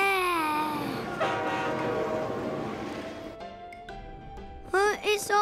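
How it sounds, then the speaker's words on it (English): A cartoon train speeds along with a rushing rumble and high whistling tones, and animated voices cry out near the end. "we're going to sleep in the train. Wow, look how super fast we're going, Gaspard."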